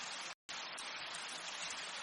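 Steady falling rain in an animated village story, a dense even hiss of drops with a brief dropout near the start, faint and without any voices.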